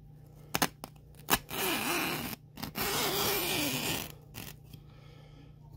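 Scissors cut through thin fabric on a recliner headrest, a few sharp snips followed by longer rasping tearing passes, close and clear with no talking.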